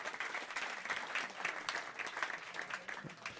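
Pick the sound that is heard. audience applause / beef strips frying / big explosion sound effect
audience applause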